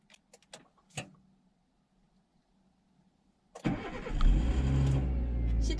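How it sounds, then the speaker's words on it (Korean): A few soft clicks and a faint whir give way to a car engine catching with a burst, then settling into a loud, steady close idle with no one talking. "저는 시동 한번 걸어 보겠습니다."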